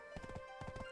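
Horse hooves clip-clop in Black Desert Online, a quick steady run of about seven close, even steps over a constant tonal music bed.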